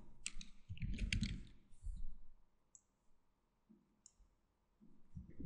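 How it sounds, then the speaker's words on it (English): Typing on a computer keyboard, with a few quick bursts of close, crisp key clicks separated by quiet pauses, alone and fairly soft. "Now I'm just gonna type shine."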